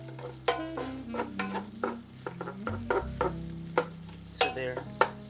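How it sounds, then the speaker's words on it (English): Chopped onions sauté in a hot pan for a cabbage and sausage dish, with a steady close sizzle broken by repeated sharp scrapes and knocks from a utensil stirring them. "Just want to saute those onions."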